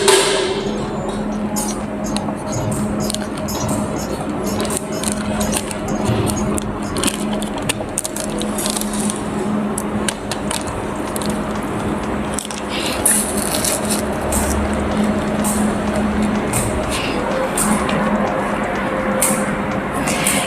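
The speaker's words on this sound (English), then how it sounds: "this powder packing machine" An ATM-320D automatic powder packing machine for chili powder and milk powder sachets runs with a constant mechanical hum and a steady stream of rapid clicks and thumps from its sealing cycle.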